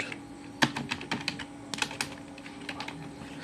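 Keys clattering on a computer keyboard as a search is typed into a web browser, a quick uneven run of close, light clicks with no talk.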